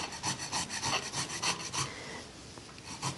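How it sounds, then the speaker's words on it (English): Rhythmic rasping strokes of a potato being grated on a small grater, about a dozen quick close scrapes that slow and soften toward the end, with no speech. "And you can use a bigger size grater with the potato, but you can also use this smaller one."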